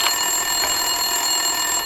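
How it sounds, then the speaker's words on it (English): A ringing desk telephone in the Max Payne 2 video game, heard as a steady electronic ring that holds at an even level for about two seconds with no voices over it. "Winterson's phone was ringing."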